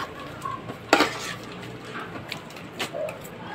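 A spoon clinks and scrapes against a bowl while stirring a homemade rebond hair mixture, with one sharp metallic knock and a few lighter taps amid quiet room noise.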